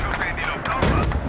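Mortar firing in the Battlefield 3 campaign mission Operation Guillotine, set in a loud wartime firefight: dense, continuous gunfire and booming blasts with a sharper thump near the middle, steady and close, with faint voices mixed underneath.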